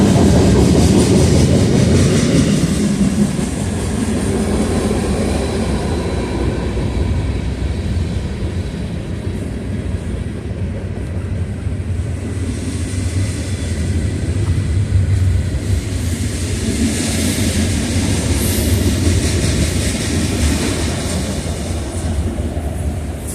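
A train rolls past close by for the whole stretch, a loud steady rumble with rhythmic clickety-clack of wheels over rail joints and broad rushing noise that swells and shifts without letting up.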